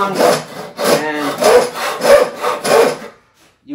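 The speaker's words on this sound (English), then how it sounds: "So you're sawing along" A crosscut saw cutting through wood with five steady back-and-forth strokes, each a rasping push of coarse, airy scraping close to the listener, ending in a brief silence.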